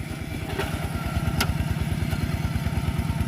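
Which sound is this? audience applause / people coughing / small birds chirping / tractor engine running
tractor engine running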